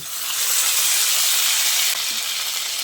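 Ground spice paste hits hot oil with fried potatoes, bursting into a loud, steady sizzle that fills the pan, briefly dipping then continuing strong with no voices.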